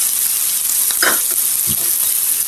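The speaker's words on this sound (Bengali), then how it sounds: "মরিচগুলো সহকারে আমি একটু ভালো করে ভেজে নেব।" Onions with salt and chilies fry in a pan for bottle gourd bhaja, a loud, close, continuous sizzle with a couple of brief stirring scrapes.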